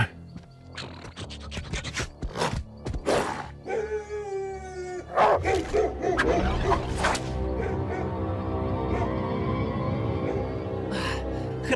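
Dogs bark and howl in a tense scene, with a burst of sharp barks followed by a drawn-out howl, then more clustered barking that fades into a steady low rumble. Scratchy noise runs throughout.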